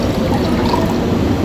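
Excess hot water poured out from a pour-over coffee setup with a paper filter cone, a steady, close, continuous trickling stream with no talk.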